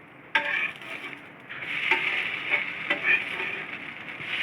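A dosa sizzles and fries on a hot pan with a steady, bright crackle, punctuated by a few metallic clinks and scrapes of a utensil against the pan.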